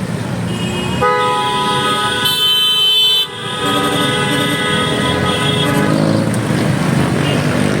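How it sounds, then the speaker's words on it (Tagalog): Loud, sustained car horns blare over steady street traffic near Mendiola, Manila, with several overlapping honks holding for seconds at a time. "Magpasensya kasi ang ingay ng mga sasakyan bumubusina dyan."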